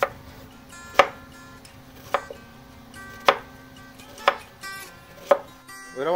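Onion being chopped with a knife for quesadillas, five or six distinct sharp knife strikes on a board at roughly one-second intervals, close and clear with quiet gaps between and no talk.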